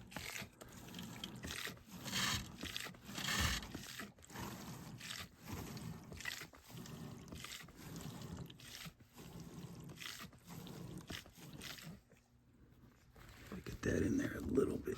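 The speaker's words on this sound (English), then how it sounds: "I got the AC drain sucker, and I got one end in my jug here, the other end in the condensate clean out, and we're just pumping" An AC drain sucker hand pump drawing water out of a condensate drain cleanout into a jug, with steady repeated rubbing and sucking strokes close by and gurgling liquid, continuing throughout.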